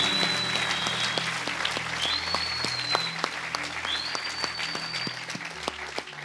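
A church congregation applauds for the Lord, steady broad clapping from many hands at moderate distance, with faint sustained tones and light background sound running beneath.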